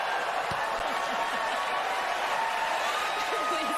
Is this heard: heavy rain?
no